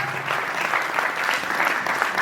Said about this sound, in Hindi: जोरदार तालियां, दिल से तालियां बजाने से जोर से।